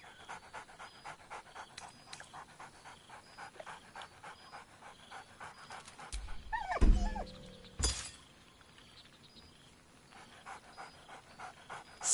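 A dog in a video game pants excitedly in steady rhythmic breaths, with a loud thunk and a brief crash breaking in midway.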